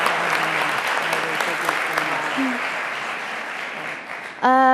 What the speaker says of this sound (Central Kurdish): بۆ تەواوی بەشداربەکان هەمان چەپڵە لێ دەدەن